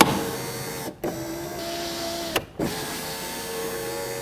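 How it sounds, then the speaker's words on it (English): A power window motor in a 2007-2010 Chrysler Sebring door with a replaced regulator whirs steadily, stops briefly, runs again, pauses once more and then resumes, close and clear with no talking. "plug in the window switches so I can test the window motor"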